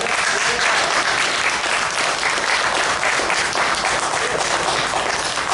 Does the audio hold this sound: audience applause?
yes